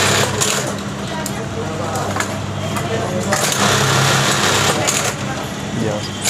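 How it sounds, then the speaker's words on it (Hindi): Juki industrial sewing machines stitching garments in a factory, a dense busy whir with rapid motor buzz and recurring clatter bursts, while people talk close by. "हाँ, यहाँ पे स्टिचिंग होता है।"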